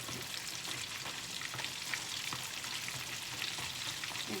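Batter-coated strömming fish, seasoned with salt and pepper, frying in hot oil: a loud, steady hiss with dense crackling and a few sharper spits, heard close and without voices.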